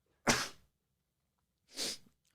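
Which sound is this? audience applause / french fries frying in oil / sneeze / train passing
sneeze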